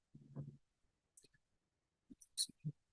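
Computer mouse clicks while navigating a Jupyter notebook, a few faint, sparse taps scattered across a quiet room, with a soft low murmur at the start.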